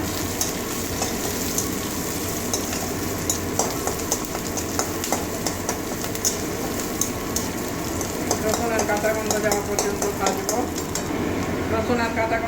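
Onion and garlic fry in hot oil with a constant dense sizzle and the occasional tap of a spoon on the pan. The bubbling grows louder and crackles near the end, with speech over it.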